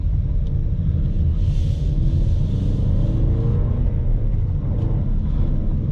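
A 2021 Ford Mustang with the 2.3-liter engine and six-speed manual gearbox is being driven, its engine giving a steady, loud low rumble inside the cabin that swells briefly under throttle, with no talk over it.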